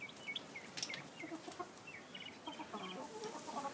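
A broody hen on a family farm clucks softly in short, repeated chirping notes over a steady farmyard hush, faint and close by.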